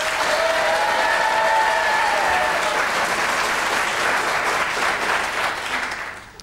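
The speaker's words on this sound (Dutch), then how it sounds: "Dus een groot applaus voor Monique Duurlo." A TV studio audience applauds a contestant on a Belgian mind-sports championship quiz show, with loud dense clapping sustained for about six seconds before it fades out abruptly at the end.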